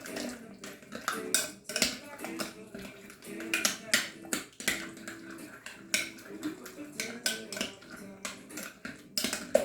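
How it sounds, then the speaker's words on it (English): A spoon stirs maple syrup into a mashed sweet potato mixture for sweet potato bars, with clinking, scraping utensil taps against a bowl repeating irregularly through the stretch, close and moderately loud, with music-like tones underneath. "Grab your maple syrup. So you want 1/4 cup of maple syrup. And then stir that up."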